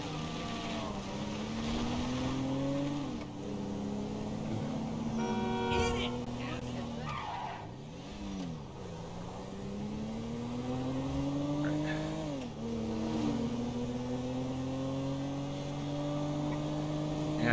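Underpowered car driven in Grand Theft Auto 5 during a supercar chase, its engine droning and sweeping up and down through gear shifts, with voices talking over it throughout.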